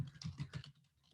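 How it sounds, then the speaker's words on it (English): Computer keyboard typing during a Python programming lesson: a few quick clusters of keystrokes, close and fairly clear, ending in lighter scattered taps, with no talking. "Sorry for my typing."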